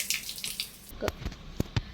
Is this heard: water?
yes